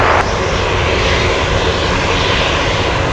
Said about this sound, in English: 747 UPS up next for takeoff.